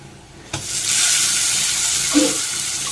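Washed, finely chopped ponnaganti greens drop into hot tempering with a sudden burst, and a loud, continuous sizzle follows at close range.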